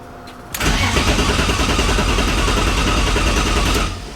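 A junkyard engine in a BMW E36 car cranks and catches, then roars loudly and steadily up close with a dense, rough rumble for about three seconds before cutting off, with no talk.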